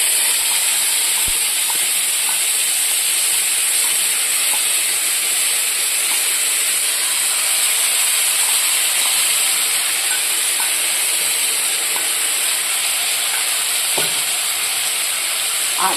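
Paste of onion, ginger, garlic, green chilli and tomato frying in a pan for a Bengali aloo dum, a steady loud sizzle with hissing steam and occasional faint stirring clicks, no voices.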